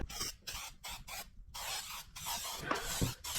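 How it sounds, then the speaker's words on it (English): Repeated short hissing bursts of aerosol polish spray, about eight quick sprays with brief gaps, close and fairly loud, no talking. "You just spray it on and kind of buff it."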